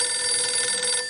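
A telephone rings in the video game No One Lives Forever, one bright electronic ring tone held for about a second, close and clear with no voices.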